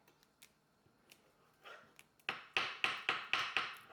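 Fresh parsley leaves cut for a holiday recipe, faint snips at first and then a run of six crisp, evenly spaced cuts close by.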